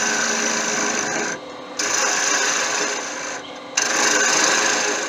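A woodturning tool peels down the front of a wooden Venus figurine spinning on a lathe, giving a steady raspy scraping that drops out briefly twice before resuming, close and loud with no talk.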